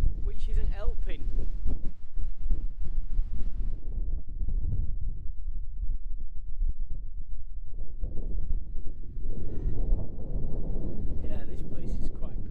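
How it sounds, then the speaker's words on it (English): A cold north wind buffets the microphone outdoors in the Scottish Highlands, a continuous low rumbling roar with gusty surges that swells again toward the end. "there's a wind coming down from the north, which isn't helping."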